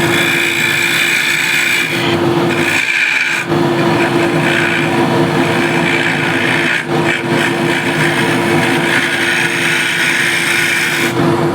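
Woodturning scraper cutting katalox on a lathe: a loud, continuous rasping scrape over a steady motor hum, with brief lighter gaps as the tool lifts and re-engages.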